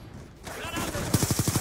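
Automatic machine gun fire sprayed by enemies in the Black Ops 2 video game, starting as a muffled rumble and then breaking into a loud, evenly spaced burst of rapid shots.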